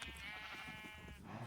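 Sheep in the Minecraft video game bleat in a steady, wavering call that fills the moment, loud and close, with no one talking over it.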